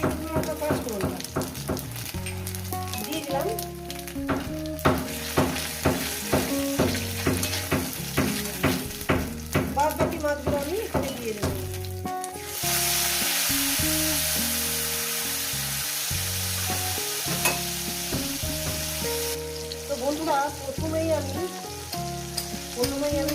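Lote fish frying with tempering spices in a pan, a steady loud sizzle with frequent stirring clatter and thumps, while harmonic background music plays throughout.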